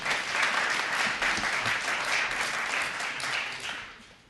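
An audience claps for a project director being introduced at a formal partnership ceremony, a dense sustained round of applause that stays steady, then begins to thin and fade toward the end.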